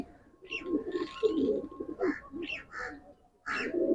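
Teddy breed pigeons, a male and female pair, cooing and murmuring close by in steady soft bursts, with a faint high hum running underneath.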